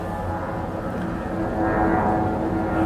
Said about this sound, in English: Okay, airplanes every minute probably.